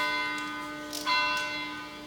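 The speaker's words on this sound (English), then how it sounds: "Wait for the church bells." Church bells ring out with long, sustained resonant tones that hang and overlap, a single clear strike renewing the sound midway, moderately distant and without talk.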